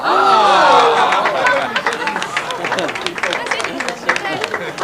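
A crowd bursts into dense, steady clapping at a company gathering in a 1986 TV drama. The loud applause mixes with excited chatter and fades slightly toward the end.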